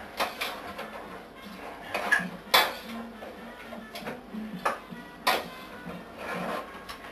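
Cottage pie mince with tomato and Worcester sauce being stirred in a pan, giving scattered scraping and light metallic clinks of a utensil against the pan at an irregular rhythm, fairly quiet and close, with no talking.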